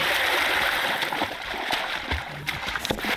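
Water splashing in the video game Garry's Mod, a continuous close sloshing and churning with small irregular splashes, no voices heard.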